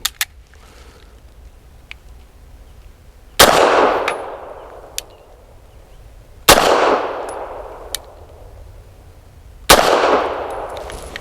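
FB Radom Vis 100 M1 pistol firing Federal Syntech 150 grain rounds outdoors: three sharp, loud shots spaced a few seconds apart, each ringing off with a short decay, plus faint metallic clinks between.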